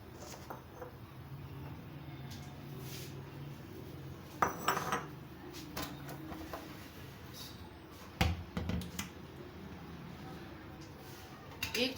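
Green chutney and other chutneys being spooned out into serving dishes, with clinks of cutlery against plates and bowls and a few sharper knocks, quiet and close over a low room hum.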